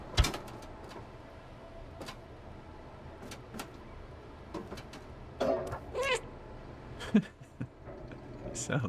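A cat meows several times in short, scattered cries amid light background clatter and shuffling, with people talking intermittently nearby.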